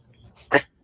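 A single short, sharp sneeze bursts out after a moment of quiet.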